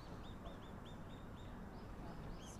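Birds in a zoo bird enclosure give a quick series of short, faint chirping calls against a soft background hum.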